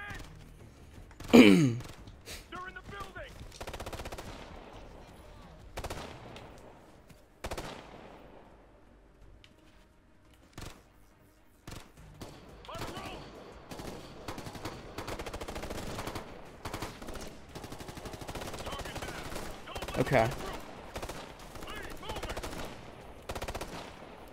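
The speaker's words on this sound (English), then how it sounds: "How many sniper rounds does it take to take out a turret?" Sniper rifle shots striking a turret in the Ghost Recon Future Soldier game, one sharp loud crack early on followed by scattered thuds and gunfire mixed into a busy battle bed.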